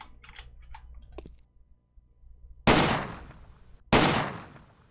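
Two loud, sharp gunshots ring out about a second apart in the turn-based tactics game Silent Storm, each with a short decaying tail, after a few faint clicks and a quiet pause.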